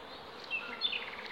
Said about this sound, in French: Et puis des mouches.